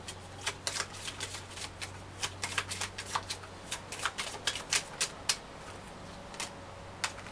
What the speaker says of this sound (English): So I'm going to pull some Oracle cards for you.